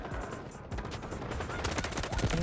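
Gunfire in the shooter Delta Force: a rapid burst of automatic shots crackles through a busy battlefield mix, growing denser and louder toward the end.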